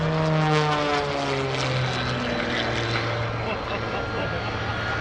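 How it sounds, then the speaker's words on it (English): Rob Holland's aerobatic propeller airplane at the NAS Oceana airshow drones loudly and steadily, its engine pitch shifting as it tumbles through an inverted flat spin, with an announcer talking over it. "the airplane does exactly what he wants it to do, as he does another frisbee and goes into a two-turn inverted flat spin"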